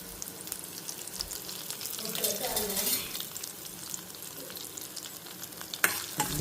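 Tempering spices with asafoetida and curry leaves sizzle and crackle in hot oil, with a spoon stirring and occasional scraping against the pan.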